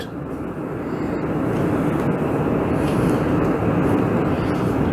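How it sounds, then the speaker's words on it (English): Dense, steady broadband roar of heavy rain pouring down, continuous and fairly loud with no voices. "Don't know if y'all can hear it, but it is pouring outside."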